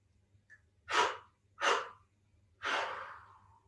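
Three deep in-breaths during a guided breathing exercise, each a loud airy rush lasting under a second, the last drawn out longer, with quiet pauses between and a low steady hum underneath.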